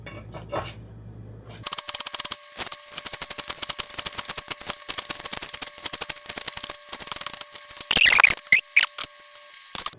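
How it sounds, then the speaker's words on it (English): A knife chops thin slices of green onion on a cutting board, a fast, steady run of crisp close taps that briefly turns into a denser, harder burst near the end. "4 green onions, which we are going to cut them thinly"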